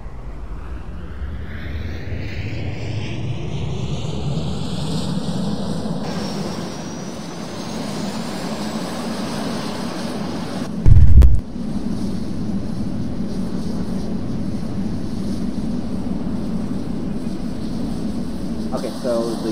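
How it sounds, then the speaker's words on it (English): F-22A jet engines starting up in the Roblox flight game Aeronautica: a steady turbine whine climbing in pitch and volume over several seconds, then settling into a sustained roar, with a brief loud thump midway and a voice talking over it. "Let's start the engines."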